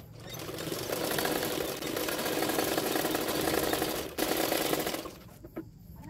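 A sewing machine runs steadily, stitching the lining fabric of a princess-cut blouse in a near, continuous whir that pauses briefly around the four-second mark, then stops near the end.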